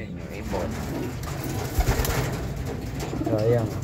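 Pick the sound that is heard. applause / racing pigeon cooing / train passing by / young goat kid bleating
racing pigeon cooing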